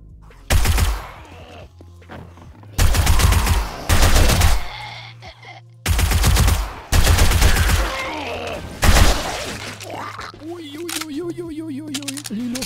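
Loud bursts of automatic gunfire in the survival video game 7 Days to Die, several separate volleys with short pauses, ending with softer game sounds.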